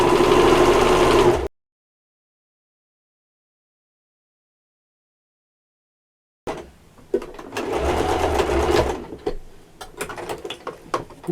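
A sewing machine stitches a dart into a small mini apron in fast, even bursts. A short run is followed by several seconds of silence, then stitching resumes in uneven spurts with brief stops.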